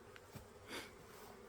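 Honeybees from a freshly caught swarm buzz around a horizontal insulated hive box outdoors, a steady faint hum with a brief louder pass of a bee flying close.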